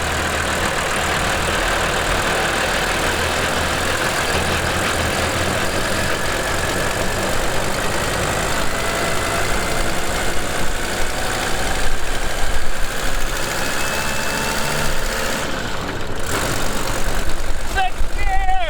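A Unimog 404 diesel truck driving without windshield and doors, its engine droning steadily and loudly with wind rush throughout, rising slightly near the end.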